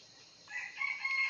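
Rooster crowing at a distance, faint and drawn out, swelling partway through over low background noise, with no talk.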